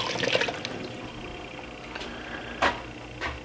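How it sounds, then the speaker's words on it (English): Water running from a kitchen tap, a steady splashing flow heard up close that fades toward the end, broken by a couple of brief clunks. "I've got to go over here and turn this water off."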